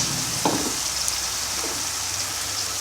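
Carrot added to pepper already frying in a pan for borscht: a steady sizzle with a brief clatter of pieces dropping in near the start and light stirring scrapes after.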